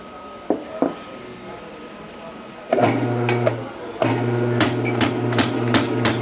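Coffee grinder grinding beans for a pourover: a loud, steady motor whir kicks in partway through, stops briefly, then resumes, with a few sharp knocks beforehand.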